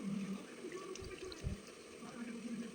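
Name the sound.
washing marinated chicken under water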